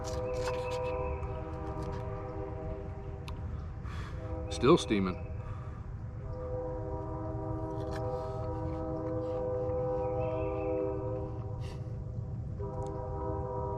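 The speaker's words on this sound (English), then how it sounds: "Now I hear a train." A distant train rumbles steadily with sustained tonal hums, and a person speaks briefly partway through.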